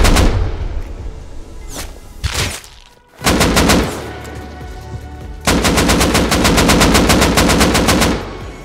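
Rapid automatic gunfire from guns in the video game Rust, loud and close, in bursts separated by short gaps with single booming shots between them.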